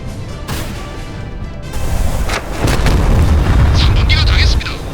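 A missile launching from a ship's vertical launch system in a North Korean attack on a South Korean island, a rising roar and rumbling boom building after a spoken command, with voices heard throughout.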